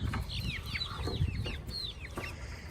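Backyard flock of chickens near a newly built plywood coop, several hens clucking and chirping in quick overlapping calls, close and fairly loud, with no talking.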